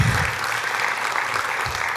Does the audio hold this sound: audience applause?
yes